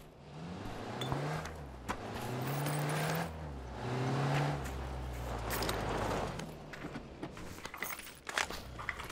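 A vehicle engine in the PUBG battle royale game rumbles low and steady, swelling and easing as the car drives across open terrain, with faint clicks near the end.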